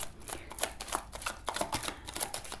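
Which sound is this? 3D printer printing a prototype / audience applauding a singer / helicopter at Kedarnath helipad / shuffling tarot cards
shuffling tarot cards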